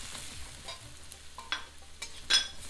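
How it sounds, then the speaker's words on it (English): Dry masala stirred into frying kofta curry base in a pan, a soft steady sizzle under a few light scraping and clinking stirs, fairly quiet and close. "and give that a stir"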